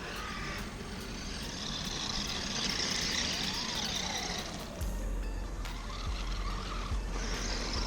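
A WLToys 12428 1/12 scale RC 4x4 crawler driving on a road with a weakening battery: a continuous electric motor whine that rises and falls in pitch over steady wheel and gear noise, fairly loud and close.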